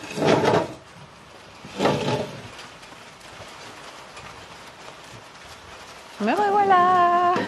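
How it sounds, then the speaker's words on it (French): Rain and hail pour down outdoors beside a covered terrace, a steady broadband hiss with a few louder clattering bursts early on, and a voice rises over it near the end. "ça va se mettre à grêler, vous allez voir, en direct live, la grêle"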